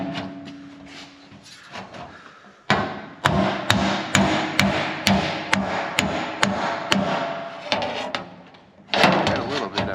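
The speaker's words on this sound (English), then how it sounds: "You want to hammer on the tack, on the dolly to stretch it out." A hammer strikes a tack weld on sheet metal held against a dolly during shaping of a Zephyr conversion, giving a close, evenly paced run of about a dozen sharp metallic blows, a pause, then one more hit.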